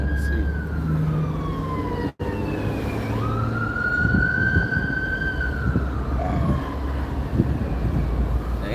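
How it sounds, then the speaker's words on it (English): An ambulance siren wails along a street, its long rising and falling tone coming from a distance at first and then growing clearer, over steady wind noise on the microphone. "Where's the ambulance coming from? I hear it, but I don't see it."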